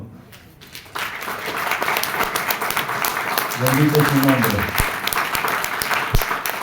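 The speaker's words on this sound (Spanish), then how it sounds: "Dame un aplauso al Señor" A church congregation claps for the Lord during a sermon, a loud sustained burst of applause that swells after a quieter opening while a voice speaks over it.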